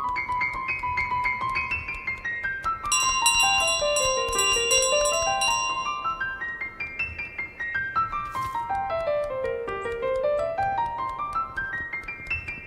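The golden bell in Untitled Goose Game rings and jingles repeatedly as it is carried along, bright tinkling notes over sliding musical tones, moderately loud with no talk.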